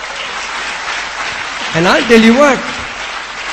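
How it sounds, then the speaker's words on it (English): An audience claps at a motivational talk, a steady wash of applause running throughout while someone speaks loudly over it. "You don't need to clap."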